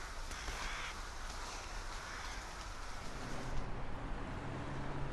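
Rooks caw in a dense, steady clamour as a large flock settles to roost in a bamboo grove, the many calls blending into a continuous wash that grows slightly louder toward the end.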